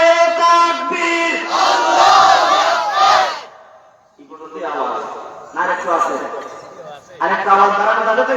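A large crowd at a religious gathering in Habiganj chants the takbir in loud unison, the roar coming in repeated bursts separated by a short lull.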